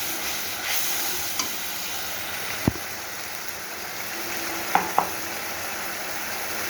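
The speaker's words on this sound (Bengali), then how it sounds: "সর্ষে বাটা বেশি কষাতে হয় না বেশি কষালে তেতো ভাতটা চলে আসে তাই আমি হালকা কষিয়ে আরেকটু জল দিয়ে দিচ্ছি" Mustard paste for a pomfret fish curry cooks lightly in a pan, giving a soft, steady simmering sizzle with a few sharp clinks and scrapes of stirring, fairly quiet and without talk.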